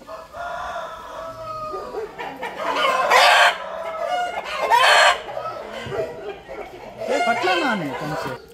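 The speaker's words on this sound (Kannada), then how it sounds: "ಡಿಫ್ರೆಂಟ್ ಬ್ರೀಡ್ ನ ಕೋಳಿಗಳಿವೆ ಇವರ ಹತ್ರ." Chickens of several different breeds cluck and crow on a farm, with loud rooster crows repeating among steady clucking, and voices talking in the background.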